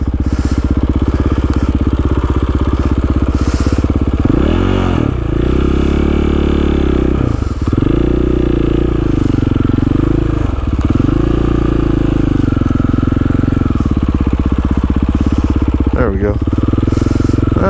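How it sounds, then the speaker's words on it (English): KTM motorcycle engine revving steadily while the back tire spins in snow, a loud, continuous, close engine drone with repeated rev swells and dips. "My back tire just spinning."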